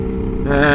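Lambretta S1 scooter engine on a shakedown ride, a steady droning hum that shifts pitch upward partway through as the gear changes, loud and close.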